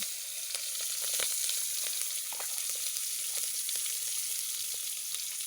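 Torn chillies sizzling in hot oil: a steady, fairly quiet frying hiss runs throughout, with occasional crackles and pops, and no voices.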